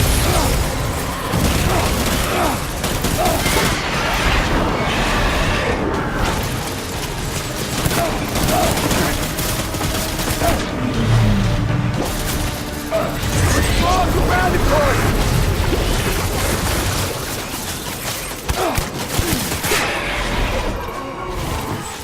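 Rapid gunfire in the game Death Stranding, dense loud bursts of automatic shots and mechanical clatter running almost nonstop, with shouted voices mixed in amid the battle.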